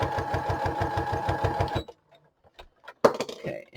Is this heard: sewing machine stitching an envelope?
yes